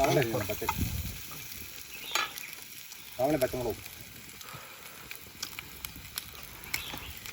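Sliced onions fry in a pan for beef biryani, a steady close sizzle with occasional stirring scrapes, while people talk over parts of it.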